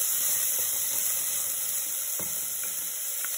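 Onion and carrot sizzle in half a cup of hot oil in a preheated pot: a loud, steady frying hiss with a few faint clinks and stirs.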